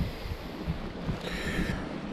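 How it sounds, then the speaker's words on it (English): Wind gusts across the microphone beside a seaside rockpool, a low, uneven buffeting rumble with faint water wash behind it, no one speaking. "A little bit windy today"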